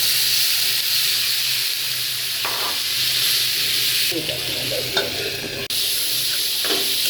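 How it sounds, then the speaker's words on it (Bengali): Spice paste sizzling as it is sautéed and stirred in a pan during home cooking, a steady frying hiss with occasional scraping stirs, close and fairly loud. "মশলাটা কষাই নিচ্ছি"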